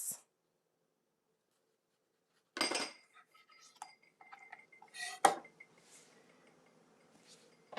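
Dishes and cutlery clink in a few short, sharp bursts with quiet gaps between, a small layered appetizer of olive tapenade, tomato slices and basil leaves being assembled close by.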